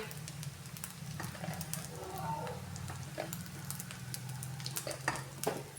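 Leftover-rice fritters (bhaji) crackle and sizzle steadily in hot frying oil, with sharp pops scattered over a continuous low bubbling hiss, close and fairly quiet, with no voices.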